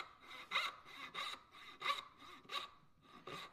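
A hand saw makes light, short strokes to finish a kerf in wood, giving a steady rhythm of about six soft rasping pushes, close and quiet.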